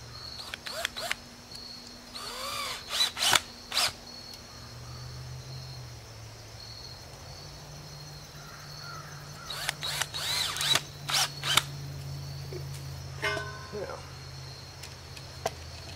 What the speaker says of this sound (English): So I'm going to run that in with sheetrock screws.